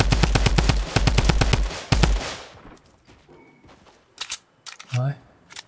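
Rapid bursts of automatic gunfire from the battle royale game Fortnite rattle loudly for about two seconds, then fade into quieter game sounds with a few brief effects and a short voice.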